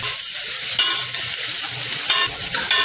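Onions fry in a hot pan with garlic and curry leaves for moong dal, a loud, continuous sizzle close up, with brief stirring bumps.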